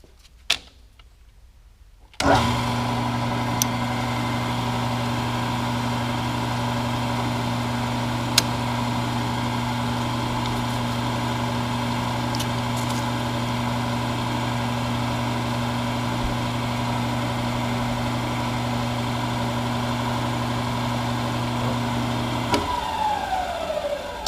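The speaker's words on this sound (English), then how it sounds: "So we're gonna take a couple more bores and" A metal lathe runs steadily, taking boring passes on a workpiece for a shop jib crane. A loud, continuous motor hum starts after a quiet moment and holds throughout, with occasional small ticks and no speech.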